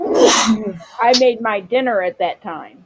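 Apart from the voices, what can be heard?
sneeze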